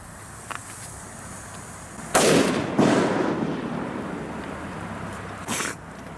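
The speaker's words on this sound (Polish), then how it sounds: "musimy to spróbować z mocniejszą petardą" One powerful, stronger firecracker blast cracks out at an echo-rich spot, answered moments later by a loud echo that decays slowly; a further sharp bang follows a few seconds after.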